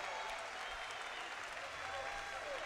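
Crowd applause for wrestlers after a bout between Makhmud Sayfullaev of Uzbekistan and Fredrick Høifødt of Norway: steady, fairly faint clapping filling the hall throughout, with voices murmuring underneath.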